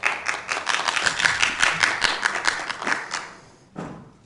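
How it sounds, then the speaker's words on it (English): An audience claps together in a sustained burst of applause at a city council meeting, steady and fairly loud for several seconds before fading, with a brief louder clap or thump near the end. "Let us clap."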